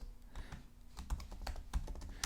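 Close-up keyboard typing: scattered clicks and taps in uneven bursts, some keystrokes sharper than others, in a quiet room.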